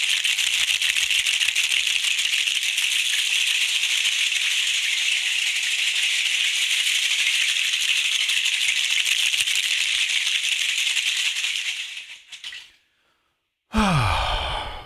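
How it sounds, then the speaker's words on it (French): Maracas shaken steadily for around twelve seconds, a dense bright rattling hiss close to the listener, with a brief pause near the end before a final burst of shaking. "je fais un petit coup de maracas"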